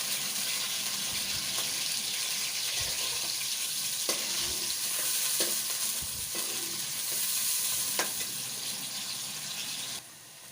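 Onions fry in hot oil for mutton karahi, giving a steady close sizzle with occasional stirring clicks and scrapes, and no talking over it.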